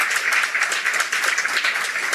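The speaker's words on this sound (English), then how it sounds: "I'm sure we can do better with our applause." An audience at a live panel discussion on keeping the electricity supply running gives a round of applause, a busy mesh of individual claps that holds steady and fairly loud throughout.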